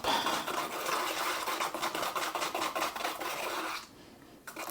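Grout being mixed in a container for a bathroom makeover, with a continuous gritty scraping and stirring rhythm up close that briefly pauses near the end.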